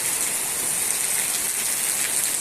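Heavy rain pours steadily near Kanha tiger reserve in Madhya Pradesh, a dense, even hiss that stays loud and unbroken throughout, with no voices.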